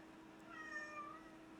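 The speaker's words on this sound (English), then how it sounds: "Why are you just under the table meowing at me?" A pet cat meows from under a table indoors, a single drawn-out, fairly faint call standing alone against a quiet room.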